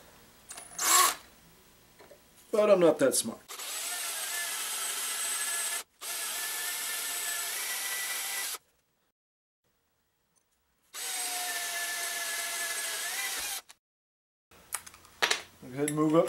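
Handheld power drill boring a hole in soft metal, whining in two long steady runs separated by a pause, with short bursts at the start and end and someone speaking briefly.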